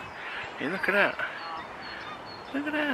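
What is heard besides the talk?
ducks being fed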